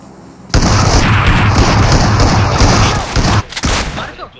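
Bomb blast and gunfire from the mobile battle-royale game BGMI: a loud sustained roar of explosion and rapid shots that crackle on for about three seconds, then a few scattered bursts.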